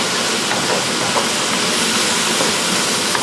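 Ham cooking in a hot pan gives a steady, loud, dense hiss and sizzle that stays unbroken throughout, close up with no voices.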